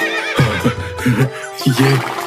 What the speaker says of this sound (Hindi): उन्होंने घोड़े को देखा तो जोर जोर से वो हिनहिनाने लगा